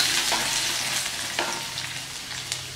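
Hot oil hisses and crackles steadily as chopped garlic fries, with occasional soft scrapes of a spoon stirring the pan.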